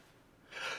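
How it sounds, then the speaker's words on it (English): A single short sneeze bursts out abruptly near the microphone after a moment of quiet breathing, in a quiet room during a music mixing session. "I'm going to sneeze."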